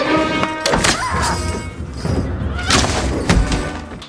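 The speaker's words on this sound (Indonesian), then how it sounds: "Chris tiba-tiba tersadar dari pingsannya dan langsung melayangkan tembakan ke arah wanita itu." Gunshots in a cowboy film, loud booming reports with echoing thuds over busy movie soundtrack noise, several blasts spread across a few seconds.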